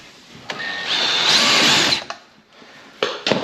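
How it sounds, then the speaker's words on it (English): A power drill with a 3/8 bit drilling wood for an interior door installation whirs for about a second and a half, winding up and down, followed by a few sharp knocks and clicks. "Again, 3/8 drill."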